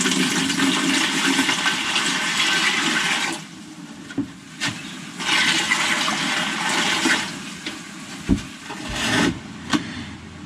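Water pours into a container in bursts for mixing a CFS cleaning solution, one part CFS to four parts water, for Detroit Diesel heat exchanger cores: a loud rushing fill, then pauses with knocks and thuds between two more gushes.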